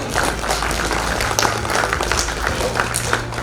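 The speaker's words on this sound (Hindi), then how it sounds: "जोरदार तालियों से एक बार स्वागत हो जाए।" Loud, dense clapping from the audience at a rural India TV excellence awards ceremony in 2025. The crowd claps quickly and keeps it up over a steady low hum from the hall.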